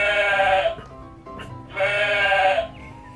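A sheep bleats twice, close by, with each long wavering cry separated by a short pause.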